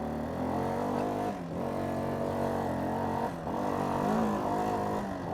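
Kawasaki Bayou 400 4x4 ATV engine running steadily and loud, its note rising and falling with throttle in a couple of brief dips, no talk over it.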